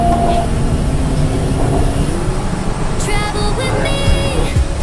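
A Bangkok BTS Skytrain rolling along the line, with a continuous loud rumble of wheels and motors and tonal whines and chimes near the end.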